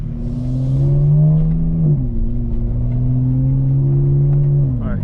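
A 2025 BMW M4 Competition xDrive pulling away hard under launch control with burbles switched off, a loud, steady engine drone climbing through gears with a shift dip, heard close from inside the car.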